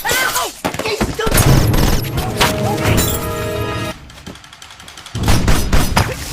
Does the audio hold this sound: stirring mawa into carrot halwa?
no